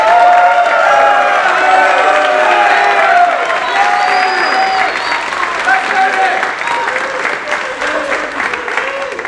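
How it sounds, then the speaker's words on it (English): A concert audience breaks into a round of applause, with clapping and some cheering loud at the start before tapering, while held musical tones and a voice carry through underneath. "will you give them a big round of applause?"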